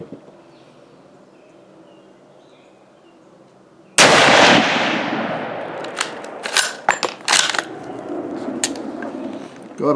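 Mauser 98 bolt-action rifle fired at a shooting range: one loud, sharp report rings out with a long trailing echo, followed by several crisp mechanical clacks.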